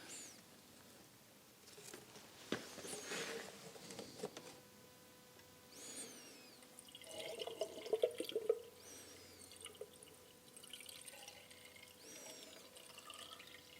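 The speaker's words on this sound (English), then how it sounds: "let's see how much cooling liquid we need to add" Coolant is poured into a Van Diemen RF 85 race car, with soft trickling, splashing and dripping that come and go in irregular bursts at close range.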